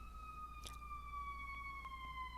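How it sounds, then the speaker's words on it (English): An emergency vehicle siren wails steadily outside, a sustained, slowly falling tone heard from indoors at moderate distance, with a few faint knocks underneath. "There's a loud siren right outside"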